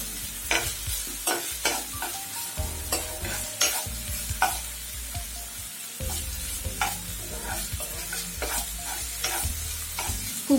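Sliced onion and grated ginger sizzle in a pan while a spoon stirs in uneven bursts, the frying hiss steady and close with repeated scraping strokes.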